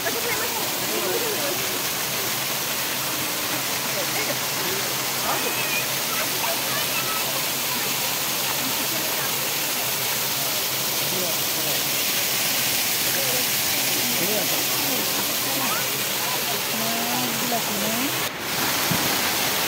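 Steady, broadband rush of a waterfall at Chikli water park, continuous and fairly loud for the whole stretch with no pauses or talk.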